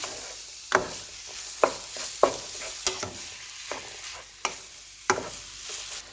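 Chopped onion, one medium size, tipped into a hot pan and stirred, sizzling steadily with sharp scraping strokes at irregular intervals, close by and with no talk.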